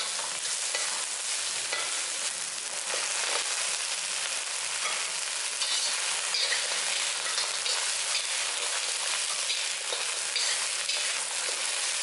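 Chili peppers and green onion stir-fried in hot oil before tofu goes in, a constant bright sizzle with scraping and stirring clatter throughout, close and moderately loud, with no voices.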